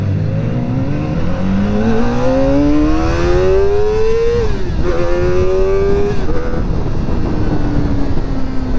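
Kawasaki ZX-4RR 400 motorcycle with a quick shifter, heard while riding: a loud, continuous high-revving engine whine climbing through the gears with quick shifts, dominating the wind noise.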